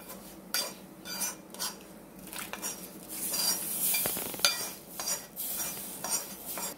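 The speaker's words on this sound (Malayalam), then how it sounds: "ഇത് നന്നായി ഒന്ന് തന്നെ വഴറ്റിയെടുക്കാം" Spices and chili powder sautéed in a pan for a fish curry: a spatula scrapes and clinks against the metal over and over in an uneven rhythm, close and fairly loud, with a faint sizzle underneath.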